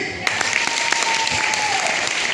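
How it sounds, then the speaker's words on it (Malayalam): A group breaks into brisk, dense applause at a resort project presentation, steady close clapping lasting a couple of seconds with a faint voice underneath. "സൂപ്പറാണ്, നല്ലൊരു കൈയടി."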